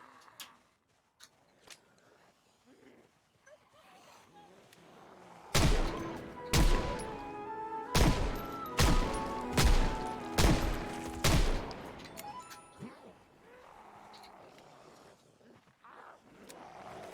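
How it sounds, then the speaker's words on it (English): Gunfire in a Project Zomboid-style survival video game set in a cryogenic winter: a cluster of six or seven loud, sharp shots about a second apart, with quieter ambient game sounds before and after. "Shooting."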